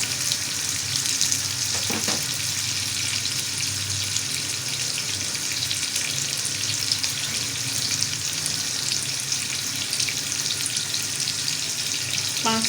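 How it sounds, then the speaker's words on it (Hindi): Onions frying in a pan over a high flame for chana pulao, a steady dense sizzle running unbroken throughout, with a couple of faint clinks near the start and no talking. "फ्लेम हम थोड़ा तेज़ कर देंगे ताकि हमारी प्याज ब्राउन हो जाए।"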